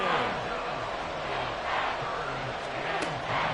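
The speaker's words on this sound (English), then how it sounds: "Crowd getting in it a bit already" Crowd noise in an American football video game, Chiefs versus Bills, a steady broad roar of cheering swelling slightly as the stadium gets into the game, continuous through the clip with no talk.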